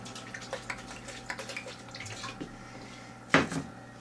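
A small amount of water goes into a blender holding celery, heard as soft trickles and light drips followed by one sharper splash near the end, all quiet and close.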